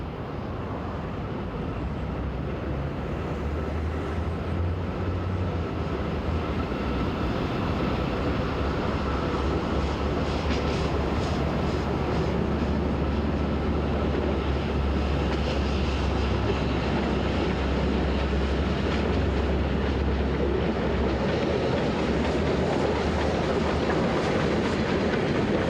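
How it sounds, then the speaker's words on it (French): A heritage mixed train on the Vivarais line, hauled by locomotive 414, passes by with a long, steady low rumble and rhythmic clickety-clack of wagons on the rails, loud and sustained. "À son tour, la 414 emmènera un autre train mixte."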